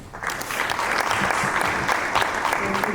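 Steady applause from a crowd at a summit's inaugural session, many hands clapping continuously for a few seconds without pause.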